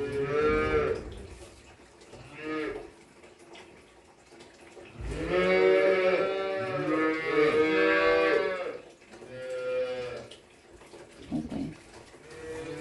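Cattle being vaccinated on a farm give several loud, close moos, with one long drawn-out call in the middle and shorter lows before and after, with quiet gaps between.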